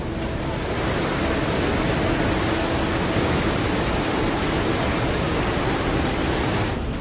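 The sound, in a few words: roaring water of a flooded, swollen river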